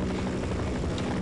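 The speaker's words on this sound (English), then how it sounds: "helicopter would keep flying" Helicopter flying in the game They Hunger, a steady close rotor thrum with continuous low chopping and no talk.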